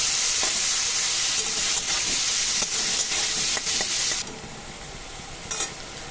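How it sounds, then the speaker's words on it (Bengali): Prawns frying in a pan for a ridge gourd and prawn curry, giving a loud, close, steady sizzle and hiss with a few stirring clacks, then dropping abruptly to a quieter simmer near the end. "কথা বলতে বলতে চিংড়ি মাছটা প্রায় ভাজা হয়ে এসছে"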